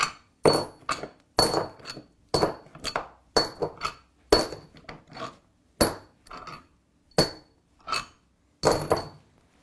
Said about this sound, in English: We're just going to take the bolts out now that we've finished loosening them.